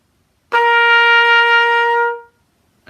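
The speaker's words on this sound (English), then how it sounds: "For example, this is a high pitch," A single sustained high-pitched musical note, clean and tonal, held for about a second and a half after a sharp attack, then quickly fading into silence; close and fairly loud.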